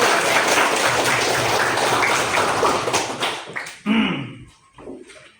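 A classroom of students claps together during a lesson on Islamic jurisprudence, a loud, dense burst of applause that cuts off sharply near the end, followed by a brief voice.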